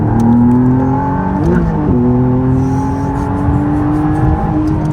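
A McLaren sports car accelerates hard, its engine note climbing steadily with a brief gear-change dip, loud and close, heard from inside.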